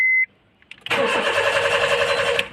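Car engine cranks for about two seconds with the key, a steady buzzing starter churn that never catches, preceded by a brief electronic beep; no talk.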